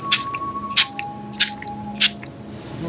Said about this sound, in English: So I'm going to take my handy spray bottle,